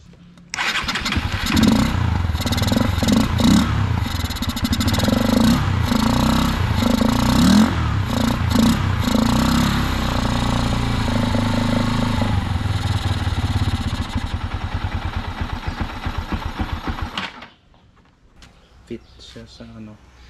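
A 2019 Honda XR150L motorcycle engine starts and runs steadily at close range for about seventeen seconds, a loud continuous mechanical drone with rhythmic clatter, then cuts off, leaving near silence.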